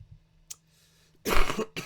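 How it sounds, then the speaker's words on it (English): A single close, harsh cough bursts out after a quiet pause, followed by a shorter second rasp. "Excuse me, got a bit of a cough."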